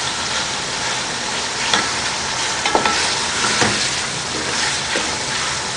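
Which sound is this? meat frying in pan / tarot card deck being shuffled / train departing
meat frying in pan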